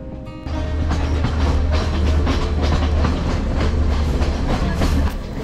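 Badulla-bound passenger train running on rails, a steady loud rumble with rhythmic clickety-clack of wheels over rail joints heard from inside the carriage, no talk.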